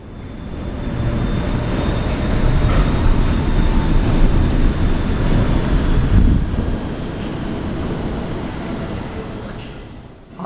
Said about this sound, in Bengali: ট্রেনটা স্টেশনে ঢুকে গেল, আর একটা ট্রেন স্টেশন থেকে বেরিয়ে যাচ্ছে।